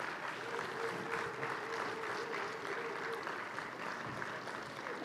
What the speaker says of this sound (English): Give him a round of applause while he walks up.